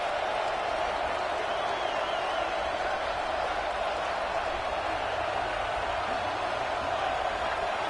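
A stadium crowd in an NCAA football video game gives a faint, steady wash of cheering and roar, a flat distant murmur with no swells, sitting low in the mix.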